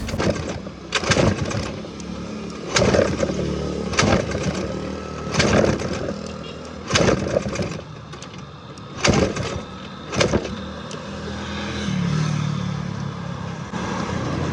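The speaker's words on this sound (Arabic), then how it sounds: "الموتور مبغاش يديماري واش نديرو والله ما بغا يديماري" Motorbike engine on an InDrive ride in Casablanca failing to start: repeated short cranking bursts at close range, roughly every second or two, each sputtering out without catching, followed by a brief low rumble near the end.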